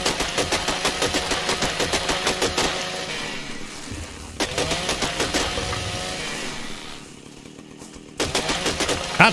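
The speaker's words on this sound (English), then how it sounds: "I've got a chainsaw" A chainsaw in the ARK video game loudly revs and cuts trees, its engine buzzing in repeated strokes, easing to a lower idle before surging again near the end.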